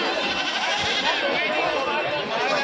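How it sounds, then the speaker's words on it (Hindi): Desi-breed goats bleating at a crowded goat market in Babarpur, Uttar Pradesh, several wavering bleats overlapping amid background chatter and people talking nearby. "ये देखिए देसी नस्ल में बकरी।"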